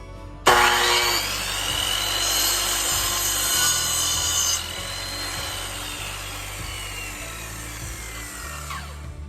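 A power saw rips through lumber in one long, loud cut lasting several seconds, with a steady grinding whine that eases toward the end, trimming boards for a broiler shelter.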